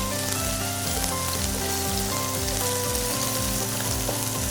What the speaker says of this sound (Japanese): こうエビとエビが離れるように、剥がすようにですね、ゆっくり火を入れていきます